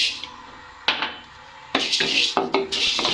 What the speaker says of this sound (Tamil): இப்போ பாசி பருப்பை போட்டு வறுப்போம்.